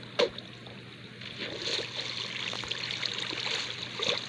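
Water flows steadily into a spider spawner room in Minecraft Bedrock Edition, a continuous close trickling rush that starts with a brief splash and runs throughout.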